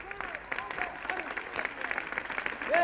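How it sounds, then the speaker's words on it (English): Audience applause and cheering at a 1969 concert at the Olympia, bursts of clapping in a hall with shouts over it, a voice calling out near the end. "I'd like to have you give a big round of applause to our orchestra from Britain"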